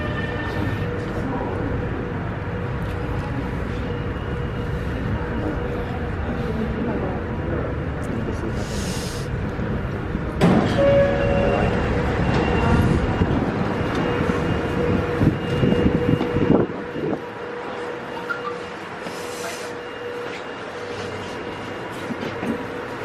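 A low, continuous rumble of a Beijing subway train swells as it pulls in, with a brief squeal, then eases off into quieter station noise.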